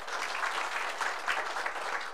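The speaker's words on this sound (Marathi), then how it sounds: "त्यांचं आपण टाळ्या वाजून स्वागत करायचं आहे" Applause from an audience at a village speech event, a steady even patter of many hands clapping close by for about two seconds.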